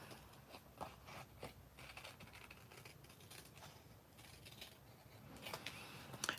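Scissors snip through paper along a traced line while making a square pillow box, a steady run of crisp cutting strokes, close and fairly quiet, with no talking.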